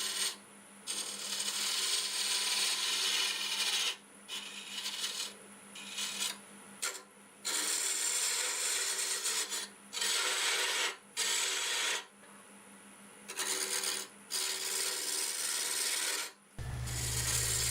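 A lathe tool scraping very hard ironwood, which breaks into crumbly dust instead of shavings. The rasping, gritty scrape is close and steady. It comes in repeated bursts broken by short pauses.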